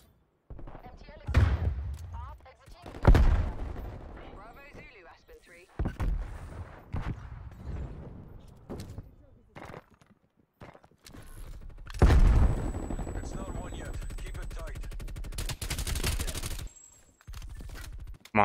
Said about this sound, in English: I want to use all of my war machine bullets.